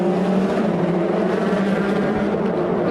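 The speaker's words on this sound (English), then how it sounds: "you will hear these engines fire as they get ready for launch here" Rallycross car engines roar together at a race launch at New Hampshire Motor Speedway, a dense, loud, continuous engine drone with no talking.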